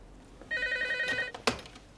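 A telephone bell rings in a burst of steady harmonic tones lasting under a second, followed by a sharp knock or clatter like a receiver being picked up, in an indoor scene.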